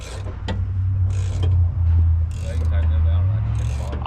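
Bursts of ratcheting clicks come as a wrench runs bolts in on an airbag load leveling kit being installed on a 2017 Ford F250. Short repeated ratchet runs sit over a low engine-like hum, with people talking nearby.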